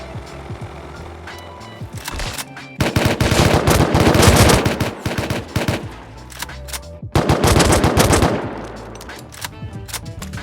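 An AK rifle fires in the video game Rust in two long, loud, rapid full-auto bursts of several seconds each, with a quieter game ambience before and between them.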